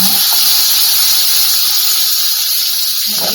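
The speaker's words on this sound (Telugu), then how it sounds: "ఈ టమాటా జ్యూస్ కూడా ఇలా పోసేసుకున్నాం మొత్తం" Tomato juice poured into hot oil for a Nellore-style fish curry, setting off a loud, sustained steam hiss and sizzle close up, with no talk.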